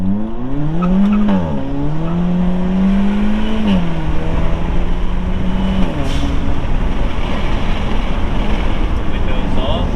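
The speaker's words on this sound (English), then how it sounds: "we're going to show you what the blow-off valve does. We're going to do a little pull here at this light." A JB4-tuned 2021 Kia Forte GT with a GFB blow-off valve accelerates hard from a light, its engine note rising and shifting through gears, with a brief whoosh between pulls and wind noise inside the cabin.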